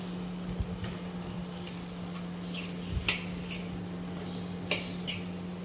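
Okra masala stirred in a pan after peanut powder is added; a spoon scrapes and clinks against the pan a few times at irregular moments over a low steady hum.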